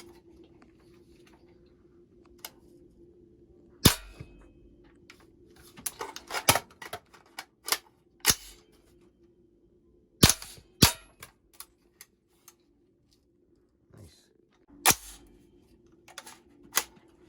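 An AR-15 firing UTM training rounds indoors at home: sharp, isolated reports spaced irregularly across the stretch, some in quick pairs, with metallic clicks and handling noise between shots over a low steady hum.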